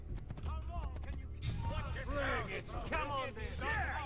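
Horse galloping in Assassin's Creed 2, rhythmic clip-clop hoofbeats under someone talking over the game, with other game sounds mixed in.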